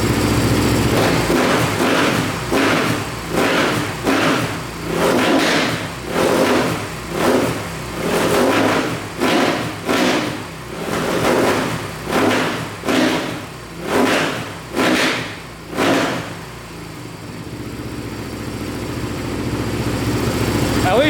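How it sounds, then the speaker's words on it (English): A 450cc dirt bike engine with a throttle position sensor fault revs up repeatedly in a steady rhythm of about a dozen loud, close bursts, each rising and falling, before settling into a lower idle. "She's revving out pretty good."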